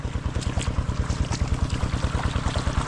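A machine engine runs in a calamansi garden, a close, loud, rapid and regular thumping drone that holds steady throughout.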